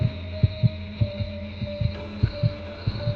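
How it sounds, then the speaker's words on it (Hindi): A racing heartbeat sound effect for a Hindi horror story, with quick, regular paired thumps repeating steadily over a low droning hum and no voices. "उसकी धड़कनें तेज हो गई।"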